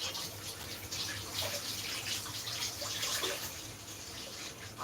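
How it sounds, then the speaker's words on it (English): Tap water runs in a soft, steady hiss while frozen food is rinsed for peanut soup in a kitchen, a continuous faint stream with light splashing and no talk. "I'm gonna rinse this up."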